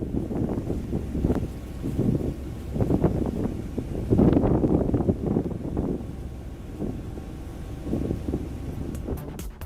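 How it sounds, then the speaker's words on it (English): Wind buffets the microphone in heavy, uneven gusts over a low engine rumble from a moving ferry, steady throughout with no voices, recorded on a Nokia Lumia 1520 phone. "a face full of sun and wind in this video shot from a ferry boat"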